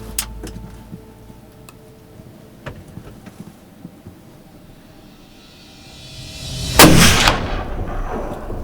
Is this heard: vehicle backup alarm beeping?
no